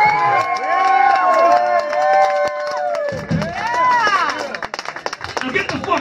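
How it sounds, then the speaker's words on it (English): A concert crowd cheers and whoops loudly, with excited voices and shouting, and scattered clapping grows denser toward the end at a rock show. "Give a round of applause for it"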